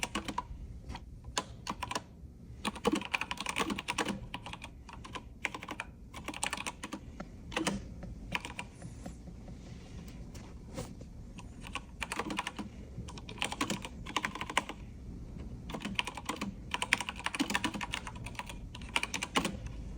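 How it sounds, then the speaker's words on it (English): Close, steady typing on an AULA F3032 RGB mechanical keyboard in white, with a continuous patter of clicky keystrokes and occasional quick bursts, no voices. "now I'm just gonna let you go ahead and hear the keys for a little bit"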